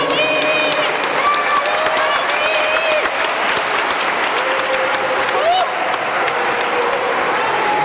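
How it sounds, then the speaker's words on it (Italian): Sustained applause from a crowd gathered for children at a Christmas event with Santa Claus, steady clapping filling the whole span with cheers and children's voices mixed in. "facciamo un applauso a tutti i bambini."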